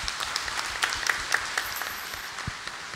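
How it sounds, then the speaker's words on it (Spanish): Light, scattered applause from a distant crowd at a Catholic Mass, steady and thin for a few seconds with no voices over it. "Para ellos un fuerte aplauso."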